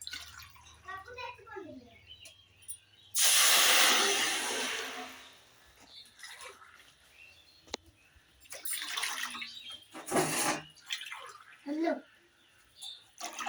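Water is poured from a glass into a pan for cooking Maggi noodles, several separate splashing pours of a few seconds each, close and moderately loud, with someone talking between them.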